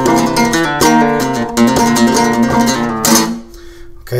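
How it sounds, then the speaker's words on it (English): Flamenco guitar in a tangos style, played with the alzapúa thumb technique: a rapid, close run of bright plucked notes and strummed chords that ends on one sustained ringing note. "alzapúa, is a pretty traditional flamenco technique we do with the thumb"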